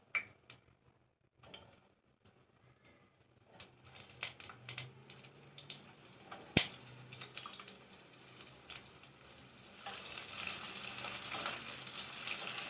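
Chopped onions fry in hot oil with bay leaves for Bengali mutton kosha, starting faint with scattered clicks and taps, then building into a steady, close sizzle that grows louder toward the end.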